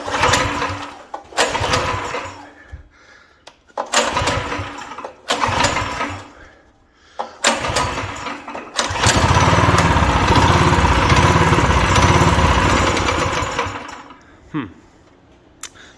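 Predator 212 engine swapped onto a full-suspension lawn mower, cranked in several separate bursts before catching and running loudly and steadily for about five seconds, then dying away; close by and dominating, with no speech over it.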